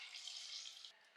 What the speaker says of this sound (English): I'm going to add only 1 cup of water here.